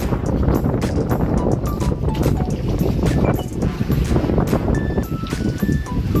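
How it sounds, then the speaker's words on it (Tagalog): Strong wind buffets the microphone in gusty bursts over a steady boat engine drone near Small Lagoon, El Nido, Palawan, with faint tonal beeps in the background. "malakas yung hangin"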